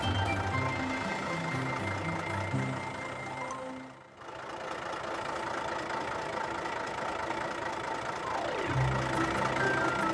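A big truck engine in a children's cartoon about helper work vehicles on slippery snowy roads rumbles steadily and loudly on its own, dipping briefly midway before resuming its idling drone.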